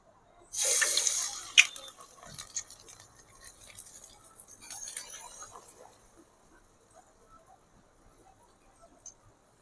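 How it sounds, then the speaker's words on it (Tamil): Small pieces of bonda batter dropped into hot frying oil for tea-shop bonda, a sharp loud sizzle burst that fades into lighter crackling and bubbling, close up and alone. "எண்ணெய் சூடாகிட்டு நம்ம இப்போ இதில் தண்ணியை தொட்டுக்கிட்டு இந்த மாவில் அப்படியே சின்ன சின்னதாக எடுத்து போடலாம்"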